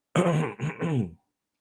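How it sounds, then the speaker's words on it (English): A single close, loud throat clearing from someone getting over a cold, a gruff two-part rasp lasting about a second, then silence. "you got the last bit of the cold trying to clear your throat"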